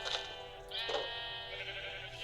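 A few short sheep bleats from a video game, close and moderately loud above a faint low hum.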